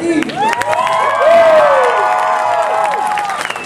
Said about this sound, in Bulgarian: Моля, аплодисменти за Брейк Южен.